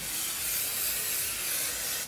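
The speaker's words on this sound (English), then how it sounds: "I'm gonna spray it with some of this Pantene Pro V hairspray" Pantene Pro V anti-humidity hairspray sprayed onto long hair in one continuous hissing burst lasting about two seconds, close and fairly loud, then cutting off.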